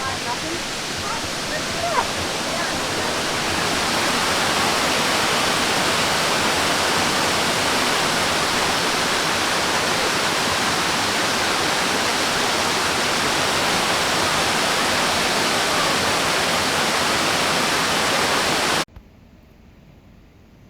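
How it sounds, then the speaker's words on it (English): A waterfall formed by a spring-fed creek tumbling down a hillside gives a steady, loud, unbroken roar of rushing water that cuts off abruptly near the end. "goes down the hill and forms an amazing waterfall"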